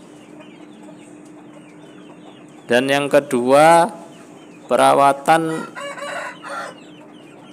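Ekor lidi ornamental chickens crowing and clucking nearby in two loud bursts, with someone talking softly in the background between them.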